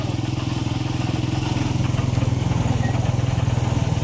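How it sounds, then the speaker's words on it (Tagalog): A motorcycle engine runs steadily near a rural hut, a low pulsing idle that stays even and fairly loud for the whole stretch, with no voices over it. "Motor lang ni Kuya Ken ang nakikita ko dito"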